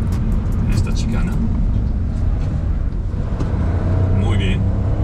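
A 2023 Hyundai HB20 car pushes hard through a chicane, its engine and road and wind roar loud and steady from inside the cabin, with no voices.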